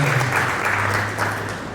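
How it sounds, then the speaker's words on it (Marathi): An audience at a career-guidance seminar applauds guests being welcomed onto the stage, a steady close wash of clapping that eases slightly toward the end. "जोरदार टाळ्या होत्या प्रोफेसर आणि मेंढकी सर"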